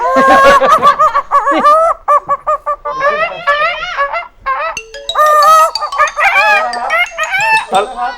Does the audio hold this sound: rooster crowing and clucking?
yes